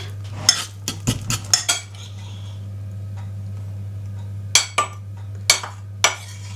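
Banana bread cupcake batter being folded in a bowl, with light clicking and scraping taps of a utensil against the bowl in irregular clusters over a steady low hum.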